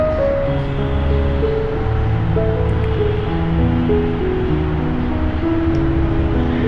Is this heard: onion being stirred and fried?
yes